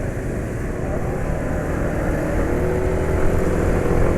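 Motorcycles race side by side to compare a Verox air filter against a fine-pore, restrictive one, their engines a steady, dense roar that swells slightly near the end, close and continuous without clear breaks.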